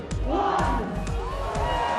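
A large crowd gathered in London's Trafalgar Square to see Team GB members mark 500 days to go, with a steady roar of cheering and shouts that stays loud and dense throughout.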